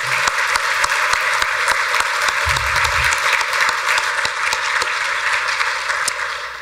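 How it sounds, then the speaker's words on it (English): An audience applauds at a distinguished speaker series event, a steady dense wash of clapping that carries evenly through the whole stretch with no voices over it. "Can you join me in giving them a round of applause?"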